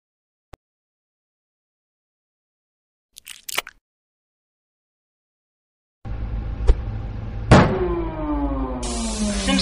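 An engine starting up and running in The Adventures of Henry Stickmin: after faint clicks and a brief mechanical clatter, a steady loud motor hum kicks in and holds, with a rising whine sweeping through it.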